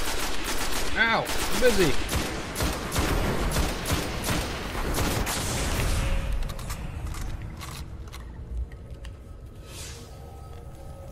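Gunfire in the video game Destiny: dense volleys of rapid shots and booms crowd the first six seconds, then thin into a quieter mechanical hum, with a player's voice calling out over the shooting.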